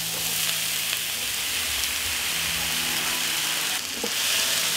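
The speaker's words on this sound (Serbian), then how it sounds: "Ulje se zagrejalo i spustit ću povrće da se prži." Chopped vegetables sizzle steadily in hot oil in a pan, a dense continuous hiss close by with faint clinks and a low background hum.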